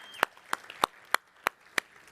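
Applause at a hotel venue event for the staff team comes as a handful of sharp, evenly spaced claps in a steady rhythm, fairly close and otherwise quiet.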